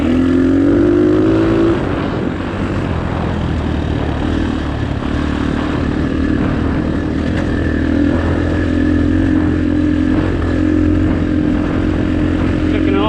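An X-Pro Storm 250 dirt bike runs in third gear along a forest trail in Sam Houston National Forest, its engine a loud, close, steady droning buzz that holds through the whole stretch.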